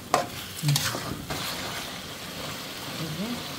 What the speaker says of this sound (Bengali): আর মাংসটা আমি ভেজে নিচ্ছি এখানে।